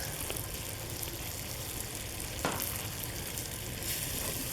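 Curry with turmeric is stirred in a hot pan, a steady close sizzle and frying hiss running throughout, with a brief scrape of the spoon midway and no voices.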